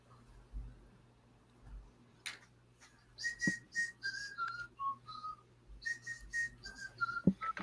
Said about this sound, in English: I'm whistling as I take apart this game to keep from shedding tears